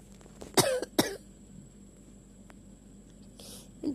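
Two sharp coughs close together near the start, then quiet room noise with a faint rustle near the end, heard while people are buying online movie tickets in a casual indoor setting.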